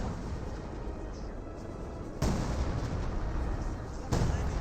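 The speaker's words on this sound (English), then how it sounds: "Bit of artillery there for something." Artillery fire in the strategy game Company of Heroes 2, with two heavy booming impacts about two seconds apart over a continuous rumbling battlefield background.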